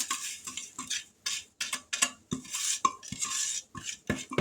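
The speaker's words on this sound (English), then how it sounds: "Let's grab a spatula. And dump this in here." A spatula clacks and scrapes against a dish while peanut butter lasagna ingredients are dumped in, a close series of irregular clinks and scrapes with brief pauses and no talking.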